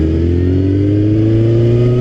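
A 1994 Suzuki GSXR 750 sport bike with a swapped-in 1995 1000 engine revs loud and close, its pitch climbing smoothly over two seconds in a continuous roar.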